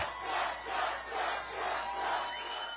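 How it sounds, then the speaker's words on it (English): A large crowd cheers and chants in rising and falling waves at a well-secured Trump campaign rally, a loud, sustained roar swelling about four times with no distinct single voice. "The former president seemed to bask in the raucous cheers of his name."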